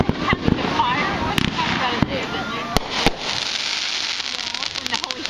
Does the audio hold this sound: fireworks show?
yes